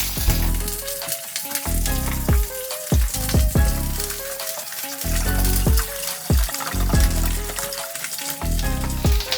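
Chicken bones brown in a hot pan for ramen broth, a loud, steady sizzle and crackle of frying fat broken by repeated clanks and scrapes as the bones are moved around.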